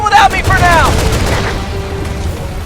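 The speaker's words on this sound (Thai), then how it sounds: "จากรถถังก็มาเป็นปืนใหญ่นะฮะ" Heavy cannon fire in the video game Resident Evil 6, loud booming blasts at the start followed by a rumbling, fading tail with a faint tone lingering.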